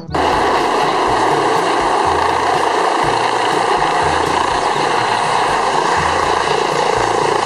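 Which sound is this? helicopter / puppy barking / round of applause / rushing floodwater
helicopter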